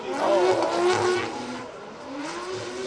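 A Pro 2 drift car swings very wide during a drift battle at Three Sisters, its engine revving loud and close with a wavering, rising pitch as the tires slide and scrub. Another engine drones in the background.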